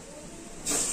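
Mutton pieces coated in gram-flour batter hiss sharply as they are dropped into hot oil, a close, loud sizzle bursting in near the end after a quieter steady background.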